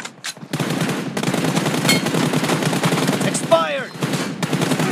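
Gunfire in a first-person shooter video game, rapid automatic bursts in quick clusters with brief pauses, loud and close, mixed with game voice callouts.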